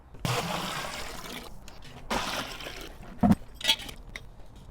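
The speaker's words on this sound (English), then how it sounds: "This is just tap water out of the hot side of my faucet." Hot tap water from a kitchen faucet rushing into a brewing kettle on a homebrew brew day, coming in loud gushing bursts separated by brief pauses, with a couple of sharp clanks near the end.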